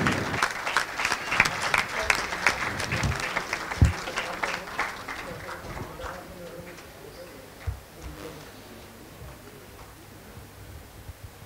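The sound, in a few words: loud audience applause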